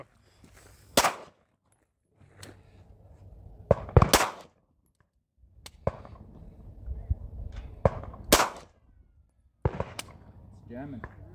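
Handgun shots ring out during an everyday-carry training drill, with roughly eight sharp, loud reports at irregular intervals. Quiet gaps and people talking fill the space between the shots.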